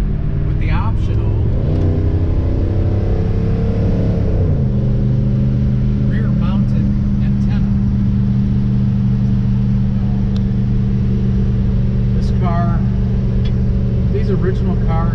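A 1969 Chevelle SS 396 idles with a steady low, heavy rumble, the engine pitch shifting with a brief rev early on while someone talks over it.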